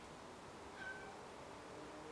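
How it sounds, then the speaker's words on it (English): A cat meows once, faint and somewhat distant, while trying to get into a room; the call is brief against a steady low background hum, and no one speaks. "there's a cat trying to get in this room."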